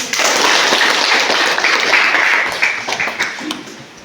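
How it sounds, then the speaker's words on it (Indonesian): Students in a ninth-grade civics class clap for a classmate's answer, a loud, dense round of applause that fades toward the end. "Tepuk tangan dulu."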